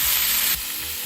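Butter sizzles around salmon in a hot frying pan, a loud, close, steady hiss that drops slightly in level halfway through.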